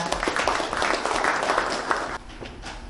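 Audience applause at a Korean book launch event, welcoming a Chinese embassy official to the stage; a dense wash of clapping from a crowd that thins out toward the end.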